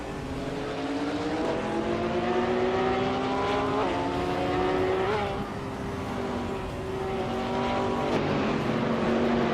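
Lamborghini Gallardo race car in a racing video game, engine droning steadily with rising and falling pitch as it holds position in a GT pack, continuous and close throughout.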